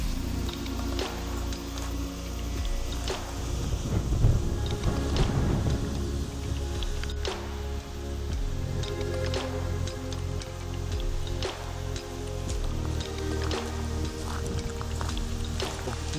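An indoor waterfall inside a cafe in Auckland, New Zealand pours with a continuous rushing, splashing wash and scattered drips under a low steady hum, heard close and at an even level with no voices.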